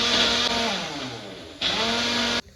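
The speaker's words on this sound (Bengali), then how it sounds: "তখন মিক্সিতে নিয়ে এই ব্রকলিগুলো ভালো করে পেস্ট বানিয়ে নিতে হবে।" A kitchen mixer grinder whirs loudly as it purees boiled broccoli into paste, running in two close bursts with a brief dip between before cutting off abruptly.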